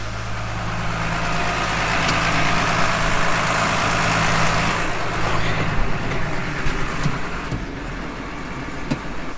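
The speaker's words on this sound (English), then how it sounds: "go shut off the hydraulics on the tractor and idle her back down." A farm tractor engine idling down after its hydraulics are shut off, a steady loud low diesel drone with a constant hum that eases slightly over time.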